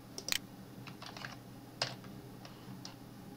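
Computer keyboard typing while entering numbers into 3ds Max 2018, with a few scattered, quiet individual key clicks and taps spaced irregularly over a faint background hum.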